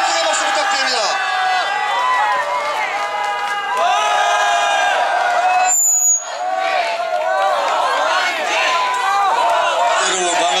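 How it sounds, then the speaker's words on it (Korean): A large outdoor political rally crowd roars and claps in a sustained, loud wash of cheering, with a brief dip midway before the noise swells again. "우렁찬 함성의 박수 부탁드립니다"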